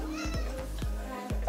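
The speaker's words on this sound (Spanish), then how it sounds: "Y mi gata no se calla." A pet cat meows repeatedly at close range, several short calls spaced through the moment over a steady background, with no talk.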